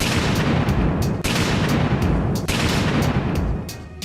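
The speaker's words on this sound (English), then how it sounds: "They fill the space with methane, set it on fire, and the cover rockets up." Methane ignited in an enclosed space blasts a cover upward, a dense, sustained roaring burst of explosive noise with sharp cracks, loud and close, filling the whole stretch without voices.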